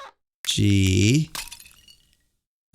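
In the courtroom game Phoenix Wright: Ace Attorney - Dual Destinies, a sustained vocal cry gives way to a sharp crack of shattering glass, followed by a brief tinkling scatter that fades into silence.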